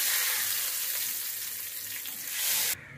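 Browned garlic tempering hits a pot of daal with mint, giving a steady broad sizzle that fills the whole clip, swelling slightly near the end before cutting off abruptly.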